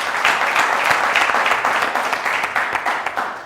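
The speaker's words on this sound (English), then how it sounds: "Let's give a huge round of applause" A packed hall bursts into dense, loud applause for a secondary schools quiz competition, the clapping sustained and even for a few seconds before easing slightly toward the end.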